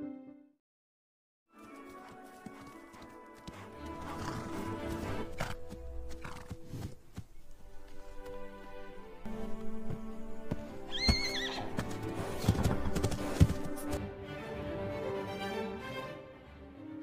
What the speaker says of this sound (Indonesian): Albert Narracott dari Devon, Inggris, melihat kelahiran bayi kuda jenis Thoroughbred dan kemudian melihat dengan kagum pertumbuhan kuda muda tersebut.